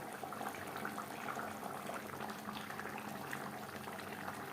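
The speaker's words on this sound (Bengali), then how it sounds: "গ্রেভির সাথে মাছ আরও চার পাঁচ মিনিট আরও চার পাঁচ মিনিট রান্না করব" Khoira fish curry simmers in its spicy gravy, giving off a soft, steady bubbling and hiss that runs evenly throughout at low volume, with no talking.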